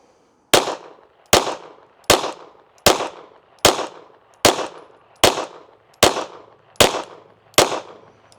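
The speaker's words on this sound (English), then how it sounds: "let's shoot a group at the middle left" Pistol fitted with a Zulisy Oak Plus red dot fired at a target, ten sharp, loud shots spaced evenly about a second apart, each with a short ringing decay, no talking between them.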